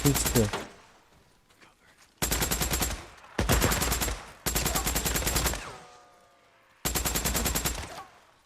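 Light machine gun fire in the video game Days Gone, heard as four loud sustained bursts of rapid automatic shots separated by short pauses, each burst lasting about a second.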